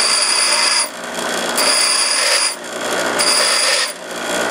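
A grinder smooths a motorcycle part for a dirt drag bike with a 13b rotary engine, giving three close, loud rasping passes of abrasive against metal, each swelling and easing with short dips between.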